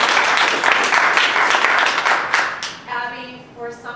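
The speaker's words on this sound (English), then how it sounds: "I want to give you a big round of applause." An audience at a local club event breaks into dense applause that fades out after a couple of seconds, and then a voice starts talking over the last scattered claps.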